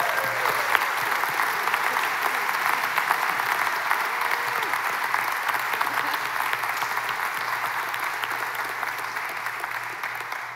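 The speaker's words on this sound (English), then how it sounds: "Let's all give Dave one more round of applause." Sustained applause from a crowd, loud and continuous clapping that fades slightly toward the end.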